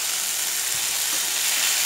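Sprouts and sausage frying in a pan, a brief steady hiss of sizzling close up with a faint scrape partway through.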